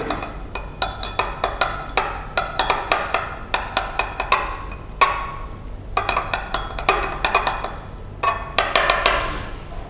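A glass rod tapping and grinding sodium hydrogen sulfate granules inside a glass beaker, giving a steady run of sharp, close clinks and scrapes in quick irregular bursts with no talk.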